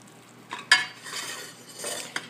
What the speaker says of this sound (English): I let the sugars dissolve and stir this for about another minute.